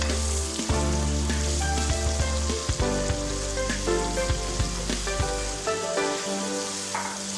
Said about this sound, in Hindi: इसमें ये चिकन डाल के चिकन फ्राई करूँगी